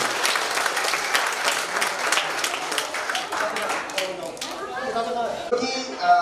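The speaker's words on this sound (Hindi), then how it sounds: "पर जोरदार तालियां होनी चाहिए बच्चों के लिए।" Audience at a poetry gathering of visually impaired poets gives children a burst of steady applause, which thins out before a voice comes in over the last seconds.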